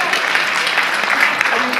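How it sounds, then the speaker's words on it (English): Brief burst of clapping from a conference audience at a social sustainability meeting, dense and fairly close, lasting under two seconds. "I think that's worth an applause."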